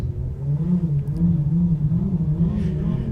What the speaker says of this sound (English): you can probably hear the Mercury ROS engines revving up slowly but surely